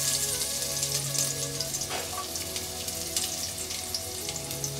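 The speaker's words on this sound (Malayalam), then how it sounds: "എണ്ണ ചൂടായിട്ടുണ്ട്. നമുക്കതിലേക്ക് കുറച്ച് കടുക് ചേർക്കാം." Mustard seeds hitting hot oil in a pan alongside chopped shallots, a continuous fizzing sizzle with light scattered pops, fairly close and steady throughout.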